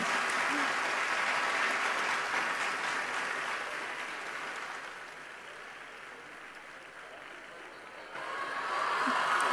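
Audience applause fills a hall during a celebration marking the tenth year of the Kanyashree scheme at Dhana Dhanya auditorium; steady, dense clapping throughout, dipping slightly midway then swelling again near the end.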